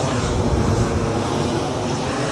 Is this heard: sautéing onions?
no